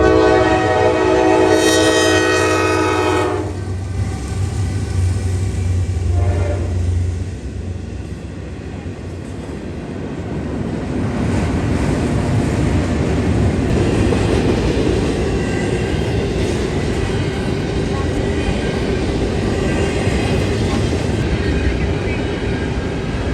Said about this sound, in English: NS Train 239 is observed flying westbound across Main Street